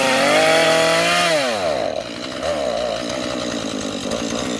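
A gas chainsaw brought out to cut a Christmas tree roars loudly and close, its engine pitch dropping as it bogs down, then settling into a rough, sputtering idle.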